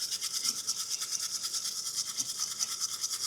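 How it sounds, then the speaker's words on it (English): A wire brush scrubs rust and buildup off the front brake caliper bracket of a Toyota Land Cruiser 200 Series / Lexus LX570. The strokes are quick, rhythmic and scratchy, repeating evenly at close range with no talking. "So I'm just going to take a wire brush and clean that up."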